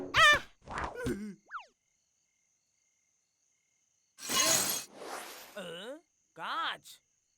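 Cartoon glass shattering in an animated adventure: a bright, broadband crash bursts in around the middle, followed by boing-like wobbling effects, with animated character voices chattering before the silence and after the crash.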